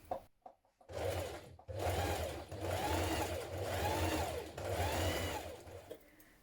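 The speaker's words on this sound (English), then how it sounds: "Now top stitch 6mm from the edge of the seam." A sewing machine runs top stitching along a seam of a vintage wrap dress in steady bursts of rapid needle chatter, close and fairly quiet, with brief pauses between runs.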